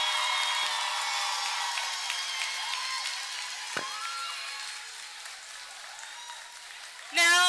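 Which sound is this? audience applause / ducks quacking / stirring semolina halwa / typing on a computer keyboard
audience applause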